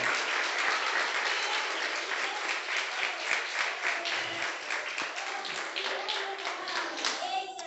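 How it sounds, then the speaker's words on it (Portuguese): A church congregation applauding during a service, a sustained crowd of clapping hands at moderate volume that stays fairly even for several seconds. "Aplauda o Senhor nesta noite."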